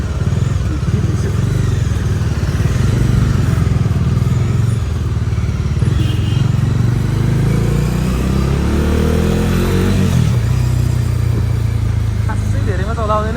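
A motorcycle riding through congested city traffic, its steady engine drone loud and constant throughout, with wind rumble, other vehicles around and a voice talking over it.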